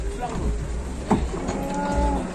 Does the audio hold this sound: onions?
no